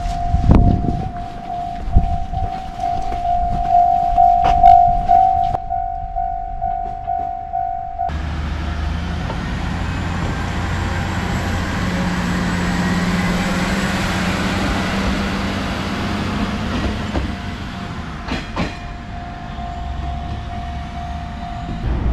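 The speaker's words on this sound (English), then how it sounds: "the train is coming" A train rumbles into a station on Japan's Tenhama Line, its low mechanical roar and rushing air building then easing, with a steady tonal hum and clanks at the start and end.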